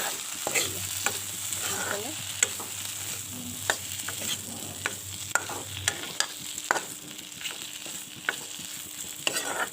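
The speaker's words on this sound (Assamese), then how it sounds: "অলপ দেৰি এনেকৈ ভাজি ল'ম এইটো" Sun-dried shukti fish frying in a pan over a fire, a steady sizzle broken by repeated sharp scraping stirs, close and alone with no talk.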